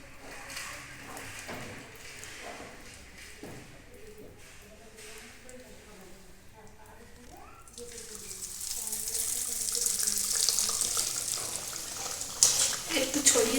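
Homemade lachcha semai fries in medium-hot oil on a gas stove, a soft hiss that swells into a louder, steady bubbling sizzle partway through, with a voice talking over the start.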